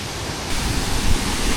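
Water pours down at the Toba-Oniore waterfall in a Georgian mountain setting, a dense, loud, continuous roar that swells slightly partway through, with no voices.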